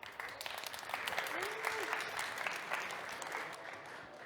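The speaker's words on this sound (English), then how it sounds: "So round of applause." A conference audience applauds steadily throughout a startup showcase, a dense wash of clapping hands with faint background voices underneath.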